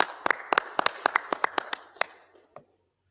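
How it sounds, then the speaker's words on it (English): Scattered hand claps from a small group at an evening Shabbat service, a dozen sharp irregular claps over about two seconds that thin out and stop, fairly close and with no talking. "let's give them a big round of applause"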